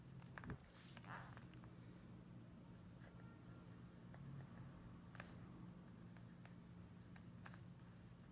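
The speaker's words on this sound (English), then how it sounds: "This is a medium nib, and just let me take a blank page here and show you how it performs." A medium-nib fountain pen writes on a blank paper page, making faint, close scratching strokes in short irregular bursts over a quiet background.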